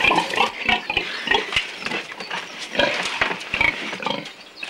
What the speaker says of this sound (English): But it makes rather a handsome pig, I think.